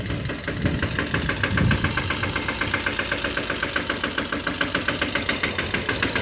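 A small tractor engine runs steadily on a farm, a loud, continuous, knocking diesel idle rumble with a rapid even pulse that holds at the same level throughout.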